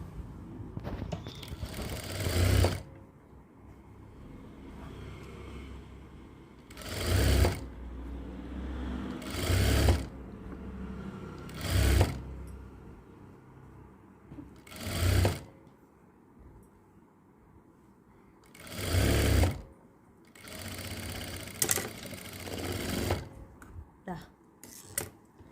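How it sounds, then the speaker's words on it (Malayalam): A sewing machine runs in several short bursts while stitching the back piece of a nightie, each whirring run lasting a second or two, separated by quieter pauses with faint handling sounds. "ഇതിൻ്റെ ബാക്ക് പീസും നമ്മൾ തയ്ച്ചെടുത്തു"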